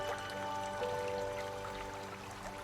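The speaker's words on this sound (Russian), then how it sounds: "Уже слышно, как шумит река." The Studenica river in Serbia rushes somewhere out of sight, a steady broadband roar of flowing water near a waterfall that keeps on without a break, with no talk over it.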